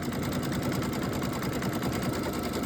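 An embroidery machine stitches an outline around a small fabric square for an in-the-hoop cat quilt block, with a steady, close, continuous mechanical whir and rapid needle rhythm and no talking.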